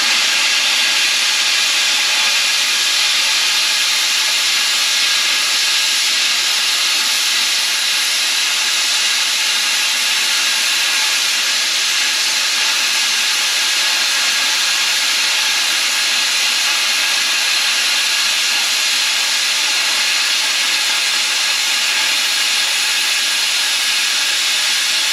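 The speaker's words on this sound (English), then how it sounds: "Mr. Man in the shop is going to fire the plasma cutter up" Plasma cutter slicing through steel plate in a shop, a loud, continuous roaring hiss that holds steady and unbroken throughout, with no voices.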